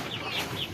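Pet chickens cluck softly and briefly, a few close murmuring calls over low background noise.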